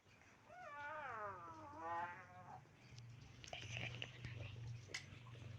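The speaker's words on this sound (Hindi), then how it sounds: "बिल्ली भाग गई।" A cat gives one drawn-out, wavering meow up close, followed by faint chewing or rustling sounds over a low background hum.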